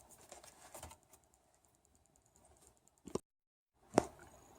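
Keys clatter rapidly on a repaired Bluetooth keyboard whose screws had pulled out and were fixed with epoxy: a quick burst of soft taps for about a second, then near silence, with two sharper clacks toward the end.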